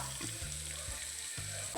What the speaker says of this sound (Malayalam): അപ്പോൾ നമ്മളിവിടെ എല്ലാം വെച്ച് കൊടുത്തിട്ടുണ്ട് പൊരിക്കാനായിട്ട്.